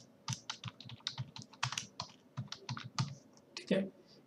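Rapid, uneven keystrokes on a computer keyboard as a name is entered while setting up an Outlook 2013 email account, close and fairly quiet clicks with a slightly heavier key press near the end.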